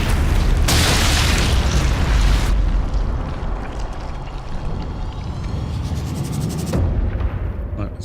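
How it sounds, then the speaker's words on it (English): A grenade explodes in the World War II shooter game Sniper Elite Resistance. The loud, heavy boom lasts a couple of seconds and fades into a long, dense rumble of debris. "I'd probably put a grenade about there."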